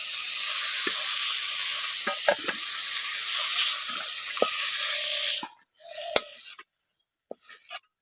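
Prawns fry lightly in hot oil in a pan, giving a steady close sizzle with scattered clinks and scrapes, then the sound cuts off abruptly as the pan goes quiet with a few brief knocks.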